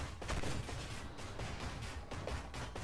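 Tank cannon and gunfire in an armoured warfare video game, a dense stream of loud blasts and rattling shots with no clear gaps.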